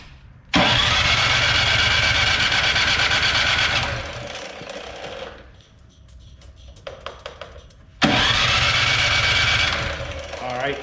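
A Cub Cadet snow blower that won't start is cranked on a stand in two long, loud mechanical bursts, separated by a quieter gap with a few small clicks and rattles.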